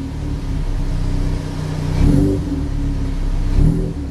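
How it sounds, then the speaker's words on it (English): A Ford Focus ST with a newly fitted TB Performance aftermarket rear motor mount idles with a low, rough engine drone, then revs gently twice, each swell brief and close. "Yeah, even just revving it a little bit"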